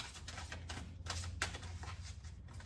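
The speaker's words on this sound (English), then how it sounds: "We're going to do one more shuffle" Oracle cards being shuffled by hand, a series of soft riffling and flicking bursts with a sharper snap midway, quiet and close over a low hum.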